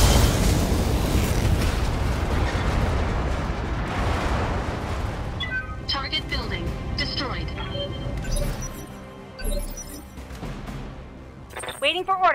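Weapon fire and explosions from the mech strategy game Battletech during an assault on a pirate smuggling base: heavy continuous booming rumble at first, then scattered cracks, bursts and metallic impacts, with a voice speaking over the battle.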